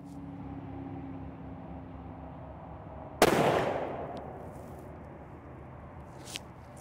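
A single sharp rifle shot from a Mossberg Patriot chambered in 7 PRC rings out loud and close at an outdoor range, its crack decaying over about a second against steady background hiss, with a faint click afterward.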